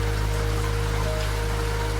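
Rain patters against the window of the Coastal Pacific Express train at night. A constant soft spatter sits over a steady low rumble from the carriage, with a faint hum running beneath and no voices.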